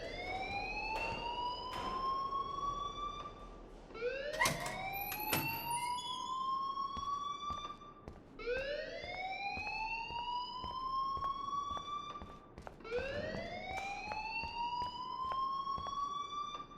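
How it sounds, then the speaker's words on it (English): An alarm in the Life Is Strange video game wails in repeating rising sweeps, about four long cycles, each climbing in pitch then cutting off, loud and unbroken by speech. "please turn off that alarm since that's your job"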